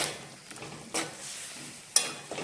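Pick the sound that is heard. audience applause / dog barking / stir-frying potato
stir-frying potato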